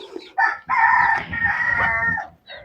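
A rooster crows loudly and close in a long drawn-out call on a vegetable garden farm, with chickens clucking briefly before and after.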